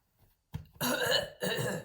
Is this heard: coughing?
yes